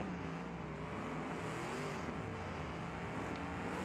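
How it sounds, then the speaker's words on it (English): Loud race cars roar steadily through a race stream, engines droning and revving continuously with no pauses, close and dense throughout. "Are the cars loud?"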